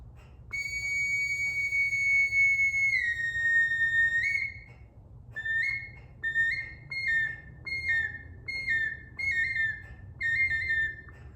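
A shrill handmade sawgrass cardinal and hawk whistle is blown close up: a long sustained note that steps down, followed by a series of short, repeated chirping blasts.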